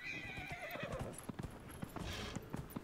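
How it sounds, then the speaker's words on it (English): A horse in the video game Dragon Age Inquisition gives a long whinny, followed by a steady run of clip-clopping hoofbeats, clear and close with nothing else over it. "Let's get back on the horse. Yeah, horse is still there."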